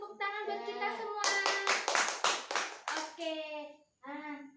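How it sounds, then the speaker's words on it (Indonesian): A primary school class claps hands together in a short burst of sharp claps between a teacher's speech and children's voices. "Tepuk tangan buat kita semua."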